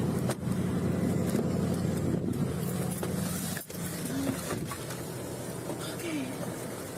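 A car hums along with a steady low engine and road drone filling the cabin for several seconds, with faint voices at times under the constant rumble.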